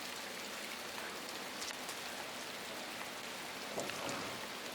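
Steady rain pours down in a horror adventure game, a dense, even hiss of drops spattering on surfaces that runs unbroken throughout, with a few slightly louder splashes near the end and no talking.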